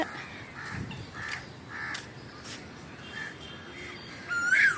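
An Asian koel calls repeatedly outdoors, harsh rising cries spaced about every half second, moderately near over a steady background hiss, with a louder call at the end.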